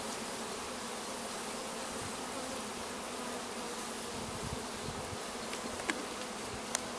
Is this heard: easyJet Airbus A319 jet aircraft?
no